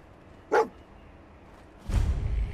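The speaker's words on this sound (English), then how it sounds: "A dog?" A dog in the video game Fallout 4 gives a single short bark near Concord, followed by a louder burst of game noise about a second later.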